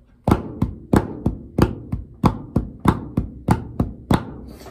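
Drum pattern played alone: a steady sequence of about a dozen sharp percussive hits with booming low end, spaced in an even rhythm and fairly close and loud.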